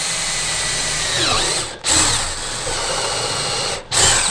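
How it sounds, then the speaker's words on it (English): A power drill bores a hole in wood for a DIY wooden stool, running loud and steady at close range, with two brief dips where the trigger eases off before it bites back in. "So we start off by drilling this hole here"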